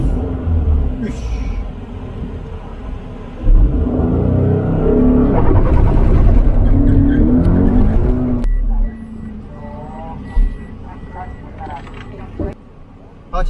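A rally car on a dirt trial course revs and roars through its run, the engine note rising and falling loudly with gear changes, then easing off to a quieter idle near the end.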